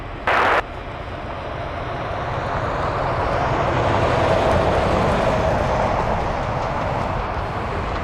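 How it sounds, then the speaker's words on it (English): A jet airplane rolls for takeoff on an Anchorage airport runway in windy conditions, its engine roar building into a broad, loud rumble that holds steady after a brief sharp burst at the start. "runway 25 left, clear for takeoff"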